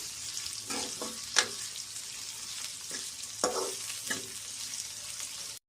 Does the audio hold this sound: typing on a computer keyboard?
no